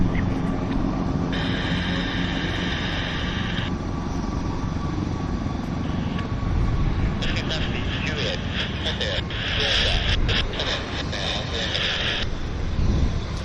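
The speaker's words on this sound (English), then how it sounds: "see our FlexJet Global 6000 taxi over here in London" A FlexJet Global 6000 business jet taxis at Vancouver airport in a steady, broad engine roar with a high whine that swells and fades, heard at moderate distance while people talk over it.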